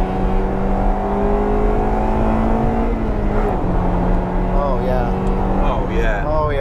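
A Honda Integra Type R hot hatch pulls away under a steady, loud engine note that climbs through the gears, close to the microphone, with a few faint voices underneath.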